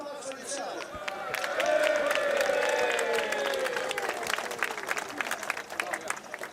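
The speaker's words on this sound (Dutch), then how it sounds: "een groot applaus voor hemzelf" Applause from the crowd at a Sneek skûtsje sailing event, broad steady clapping with a hint of cheering, swelling in the middle and tapering at the end as voices murmur underneath.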